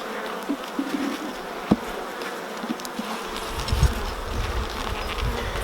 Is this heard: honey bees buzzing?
yes